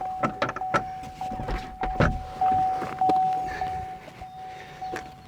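Latches, clunks and panel handling as the Targa roof comes off a Corvette C7 Grand Sport in a timed removal, with a steady tone running underneath and a few loud thunks near the middle.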